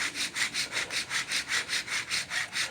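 A bow drill spindle rubs against a wooden baseboard for a friction fire, a steady rhythmic back-and-forth rasp of about ten even strokes, close up, with no talk.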